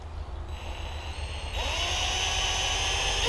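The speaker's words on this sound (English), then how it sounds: "we're going to drill another hole" A power drill boring a hole in a plastic motorcycle part, a steady motor whine that rises in pitch and gets louder partway through as the bit bites, running continuously with no speech.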